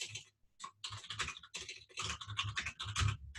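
Rapid typing on a computer keyboard, close and crisp, in bursts of clicking keystrokes with short pauses, no voices.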